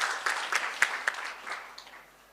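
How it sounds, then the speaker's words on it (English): Conference audience at a surgical society meeting giving a brief round of applause for a doctor, sparse scattered claps that thin out and fade quietly toward the end. "A round of applause for Dr."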